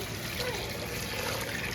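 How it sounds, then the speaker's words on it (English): Water pours from close by into a cooking pot for a dinner recipe, a steady, fairly quiet rushing trickle lasting the whole moment. "So I'm just gonna now add the water."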